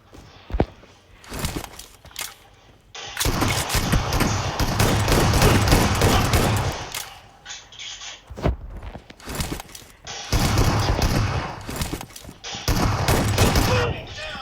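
Loud, dense bursts of shotgun fire in a one-on-one shotgun-only video game match, sustained volleys separated by short quieter gaps with footstep-like sounds.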